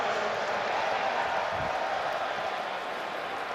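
Steady roar of a large stadium crowd at an XFL football game in St. Louis, a broad, continuous wash of cheering and noise with no breaks, loud and sustained throughout.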